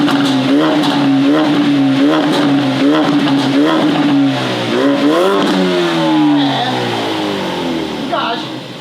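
A car engine revs hard and loud close by, with repeated throttle blips rising and falling in pitch, then dies away toward the end; a voice talks over part of it.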